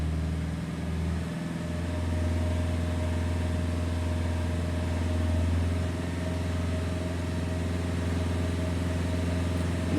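A Peugeot/Citroën engine holds a steady rev at roughly 2,000 rpm, a continuous loud drone with a constant low hum and a faint mechanical whine, running alone without talk.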